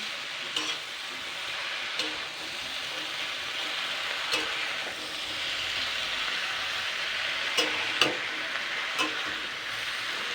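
Onions and egg batter frying in oil in a pan on a home stove, with a steady sizzle throughout and a few sharp utensil clicks from stirring, close up with no talking.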